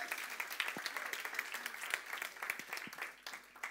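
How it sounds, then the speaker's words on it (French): Church congregation applauding during a French-language worship service, a steady dense wash of many hands clapping at moderate level with no words over it. "on peut applaudir."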